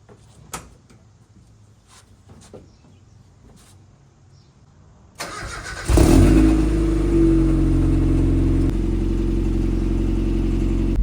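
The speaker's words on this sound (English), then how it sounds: "we're gonna back the Miata up a little bit, give ourselves a little bit more room to work here" An NA Mazda Miata under restoration, with a clutch that has no pressure, sits in a workshop. After a few quiet knocks and shuffles, its engine cranks and catches, then settles into a loud, steady idle nearby.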